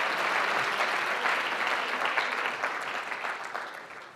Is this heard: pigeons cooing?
no